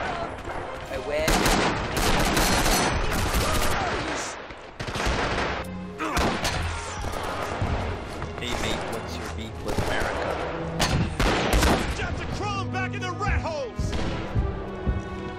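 Dense rattling gunfire and heavy blasts from the Rising Storm video game, sustained and loud throughout with bursts of machine-gun fire and explosions, a voice speaking briefly over the battle.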